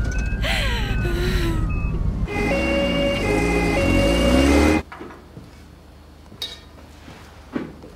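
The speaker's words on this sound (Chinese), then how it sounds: "救护车马上就到医院了" An ambulance siren wails loudly with rising and falling tones over a steady low rumble for about five seconds, then cuts off, leaving quiet room noise with a couple of faint knocks.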